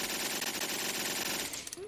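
Automatic gunfire from a gun with an extended magazine fired in full-auto in VRChat, a dense continuous rattle of rapid shots that cuts off near the end.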